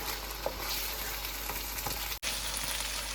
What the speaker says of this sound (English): put some green chilies and keep stirring it for a couple of minutes.